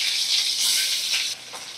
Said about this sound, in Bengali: গরম তেলের মধ্যে ফ্যাসা মাছগুলো আমি দিয়ে দিলাম